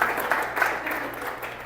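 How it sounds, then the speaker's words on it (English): An audience gives a round of applause: brief, fairly soft, continuous clapping with no clear break. "Let's give him a huge round of applause."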